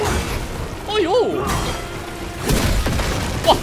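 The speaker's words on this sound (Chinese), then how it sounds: "他还有一个爆炸伤害" An enemy's explosive attack bursts in the action game Black Myth: Wukong, with sharp shattering crashes and thuds amid game effects while a player talks excitedly over them.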